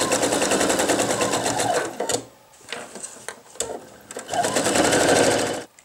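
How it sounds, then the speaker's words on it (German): A sewing machine runs in two loud, steady bursts of fast mechanical stitching while sewing a seam around a men's wallet with 1 cm seam allowance, with a short pause between the runs. "Im Abstand von 1 cm Nahtzugabe nähe ich jetzt einmal ringsherum und beginne an einer Seite der Wendeöffnung."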